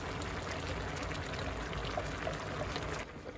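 Coconut milk poured into a simmering vegetable curry with flour, curry and paprika, a steady close liquid pour and sizzle lasting a few seconds, with no talking.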